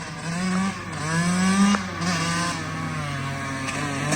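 A Kawasaki KX85 dirt bike engine, freshly top-end rebuilt, idles and putters steadily, its pitch wavering as the throttle is blipped a couple of times, fairly close and loud.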